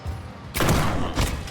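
A shotgun firing in the horror game Tormented Souls: a loud, close blast after a brief lull, followed by a second burst moments later over a low ambient rumble, with no talking.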